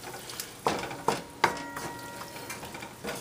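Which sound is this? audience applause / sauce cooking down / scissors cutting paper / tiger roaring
sauce cooking down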